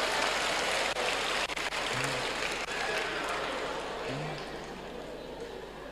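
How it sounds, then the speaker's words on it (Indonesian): An audience claps for their husbands at a priest's talk, a dense, sustained round of applause that slowly fades, with a faint voice briefly audible underneath. "Tepuk tangan untuk suami Anda."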